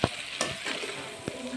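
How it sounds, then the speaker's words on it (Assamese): Homemade mango pickle stirred and fried in hot oil in a pan, a steady sizzle broken by a few scraping stirs of the spoon, close and moderately quiet, with no voices. "আৰু এনেদৰে লৰাই লৈছো ভালদৰে ভাজিম"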